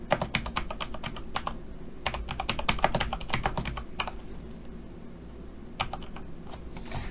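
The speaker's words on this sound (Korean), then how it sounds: "화살표로 쭉 타이핑 좀 할게요" Steady clicking of a computer keyboard while typing through an ITQ PowerPoint exam exercise, close and clear, in quick runs of keystrokes with brief pauses and no talking.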